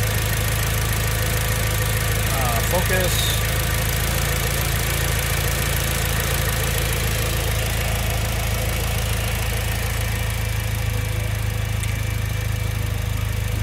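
A 2006 Mitsubishi Lancer EVO 9 MR engine idles steadily and close, a low even rumble with a constant hum that holds for the whole stretch, with a brief word spoken once.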